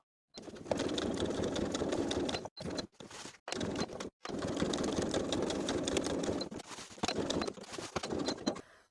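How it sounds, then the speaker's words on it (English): A sewing machine stay-stitches along a rectangle on a pants piece in steady bursts, stitching continuously with a few brief pauses between runs; close and fairly quiet, no voices. "I'm going to take it to my sewing machine and stay stitch along this rectangle."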